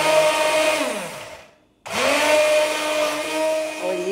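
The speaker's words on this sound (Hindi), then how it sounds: "अभी इसको हम ब्लेंड कर लेंगे।" An electric kitchen blender whirs steadily as it blends eggless homemade mayonnaise, made with lemon juice or vinegar. The loud, close motor cuts out briefly and then starts up again.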